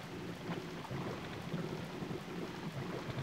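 Steady rain with low rolling thunder in Demon's Souls on PS3, set in the Valley of Defilement; a continuous dense wash of falling water and deep rumble fills the scene with no voices.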